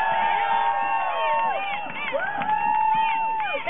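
An outdoor crowd at a May Day demonstration in San Francisco cheers and whoops over a short stretch of clapping. The rising and falling shouts are lively and sound thin, as if heard through a narrow-band recording.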